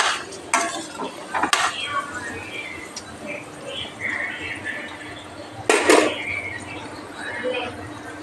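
Ingredients for an amla (Indian gooseberry) pickle are stirred and fried in a pan, with a soft frying hiss under clinks and scrapes of a utensil against metal. A person talks throughout.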